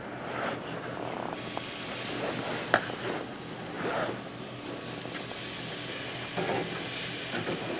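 Chicken sizzles on a hot infrared grill outdoors in cold weather, a steady loud hiss with occasional brief crackles and one sharp click, continuing without a break.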